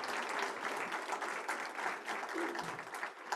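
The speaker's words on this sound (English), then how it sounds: "Let's give them a big round of applause." An audience at an individual taxation seminar applauds in a short, steady burst of moderately loud clapping that holds at an even level from start to finish.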